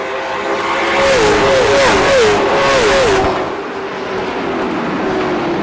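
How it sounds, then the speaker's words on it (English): Late model race cars roar past on a track in a rising and falling engine wail, with repeated revving swells as the pack passes close and loud, then the sound drops back to a steady distant drone. "I love the sound of these late model cars."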